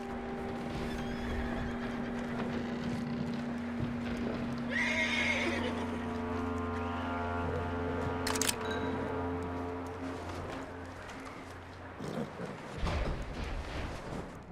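In Red Dead Redemption 2, a horse lets out a loud whinny over steady clip-clopping hooves, with a sharp click and a low background drone running beneath.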